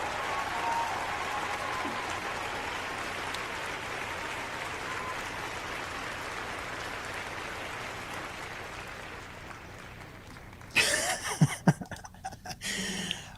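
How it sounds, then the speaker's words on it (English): A loud crowd gives sustained applause, a broad steady roar of clapping that slowly fades over about ten seconds, followed by close, abrupt noises and a voice near the microphone. "Wow, that was a loud crowd this morning"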